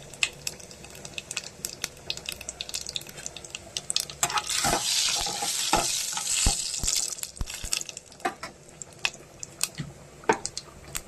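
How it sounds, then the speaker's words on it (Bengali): Dried red chillies and cumin seeds crackle and sizzle in hot oil as a tempering, with scattered sharp pops and a denser burst of frying midway, moderately quiet and close, no voices. "এখানে দেখুন তেল দিয়ে দিয়েছি, আমাদের শুকনো লঙ্কা জিরে ফোড়ন দিয়ে দিলাম।"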